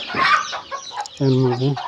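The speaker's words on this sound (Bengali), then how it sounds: "দেখুন মুরগি" Chickens cluck at a guru's home, first as a scratchy mix of rustling and short calls, then as one clear, sustained call from a single bird near the microphone.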